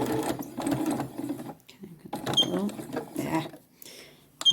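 A domestic sewing machine runs in several bursts of stitching on a festive fabric corn decoration, each run loud and close with short pauses between, and a person speaking in the background.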